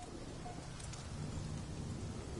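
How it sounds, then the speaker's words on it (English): A thunderstorm on a planet in the video game No Man's Sky gives a dense, constant hiss of rain layered over a low rolling rumble of thunder. "So another stormy system."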